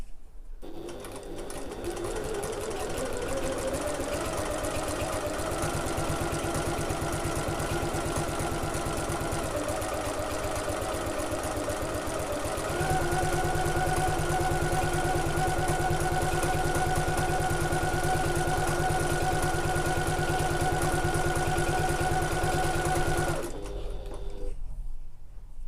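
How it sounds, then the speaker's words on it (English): A sewing machine stitches steadily along the short end of a fabric backpack, a continuous close mechanical whir that shifts pitch slightly partway through and runs for about twenty seconds before stopping. "we're just going to pivot at the end there and sew along the short end"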